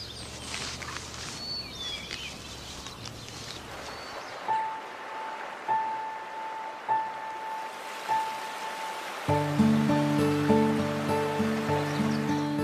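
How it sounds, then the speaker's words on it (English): Water flows along the upper Mississippi in spring with a soft, low rush. Near the end it gives way to music, with faint bird-like chirps and clicks over the quiet flow. "Water flows again at last."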